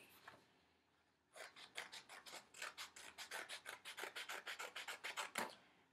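Scissors cut a yellow paper strip in a quick, close series of about twenty crisp, evenly spaced snips after a brief quiet start. No one speaks.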